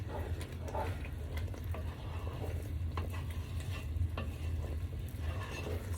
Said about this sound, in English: See how even though I stir, it's still boiling?